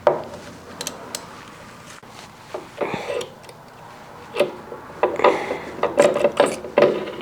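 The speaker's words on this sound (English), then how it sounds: "Yes, I can put it in gear." Motorcycle transmission shifted into gear during an engine rebuild, heard as close metallic clicks and clunks of the gear mechanism with a few ratcheting knocks, sharper and more frequent toward the end.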